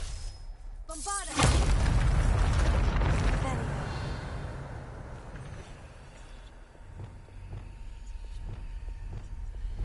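A Bombarda spell explosion in Hogwarts Legacy bursts loud and sudden after a brief voice, then rumbles and slowly fades under low background noise.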